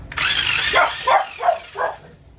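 A dog barks several times in quick succession close by at an RC car, sharp yappy barks with a whining edge, over a faint mechanical hum.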